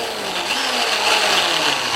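An old electric drill, just repaired by fixing its contact group, runs steadily at close range with a continuous whirring, buzzing motor drone and no speech.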